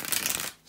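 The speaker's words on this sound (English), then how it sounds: "bear with me a second, guys, to shuffle the cards." A deck of tarot cards is shuffled close up in one brief, crisp riffling burst of papery flutter that fades quickly, with no voice over it.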